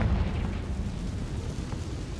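Confringo spell blast in a video game: a sustained, rumbling explosion that stays loud and dense from start to finish with no pause.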